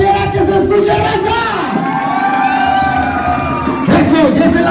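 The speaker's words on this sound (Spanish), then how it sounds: "¡Ese aplauso para la quinceañera!" A crowd cheers, whoops and shouts for a quinceañera at a dance with a live band, loud and close, a lively mass of voices swelling and dipping with music tones woven through.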